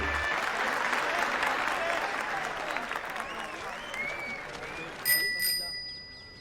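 Over a noisy room wash of voices and clapping, a bicycle bell rings out clearly near the end with a couple of bright dings.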